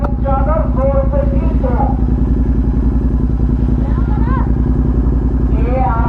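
A modified GT 650 motorcycle riding along, its engine giving a loud, steady, throbbing rumble throughout while people talk over it.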